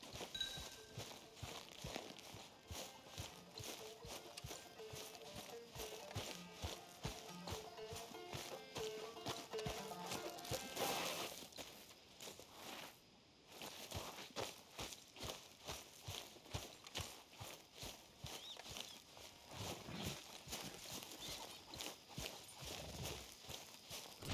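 Horse hooves clip-clop in a steady walking rhythm in the video game Red Dead Redemption 2, fairly close, with some faint background sounds and a brief pause midway.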